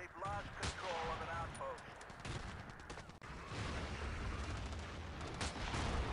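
Dense, continuous gunfire and explosions from a long-running firefight in Battlefield 2, a distant-sounding wash of shots and booms with faint voices underneath.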